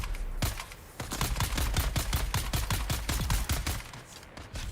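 A rapid string of sharp gunshots pops out in fast, even bursts during a video game firefight, loud and close, with a short pause partway through before the shooting resumes.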